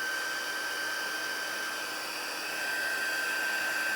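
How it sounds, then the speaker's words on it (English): A handheld heat tool for setting embossing powder blows with a steady, loud whooshing hiss and a faint high whine, running continuously close by without talk. "Okay, I'll grab my heat tool. Go ahead, get that turned on and heat set this."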